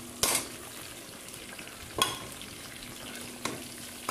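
Onions frying in oil in a pan for chicken karahi, with a steady sizzle throughout and a few sharp stirring scrapes standing out above it.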